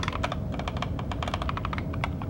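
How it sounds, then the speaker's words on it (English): Rapid clicking of computer keyboard keys in a quiet room at night, a steady run of close, crisp keystrokes with no voices. "Keyboard typing."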